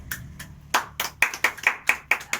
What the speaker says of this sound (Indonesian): Mari kita berikan aplaus untuk kita semua.